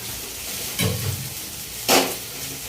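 Chicken fries and gets mixed in a pan for Indo-Chinese crispy chicken: a steady soft sizzle with two brief louder scraping stirs.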